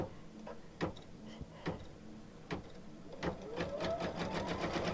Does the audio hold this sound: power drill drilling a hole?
no